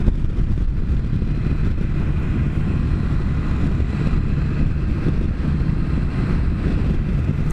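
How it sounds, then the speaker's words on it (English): Steady, loud wind roar buffets the microphone while riding a Can-Am Spyder three-wheeled motorcycle on a fall-foliage road, a continuous low rumble with no breaks or speech throughout. "this wind is not good"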